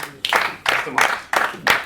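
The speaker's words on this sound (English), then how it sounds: "Round of applause." A handful of loud, close claps in an uneven rhythm, about five sharp bursts from a small group over a couple of seconds.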